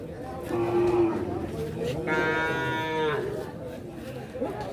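A cow moos loudly for about a second at a busy cattle market in Sylhet, with crowd chatter and other livestock noise around it.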